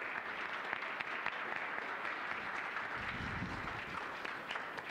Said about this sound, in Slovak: Poprosím vás potlesk pre Majku.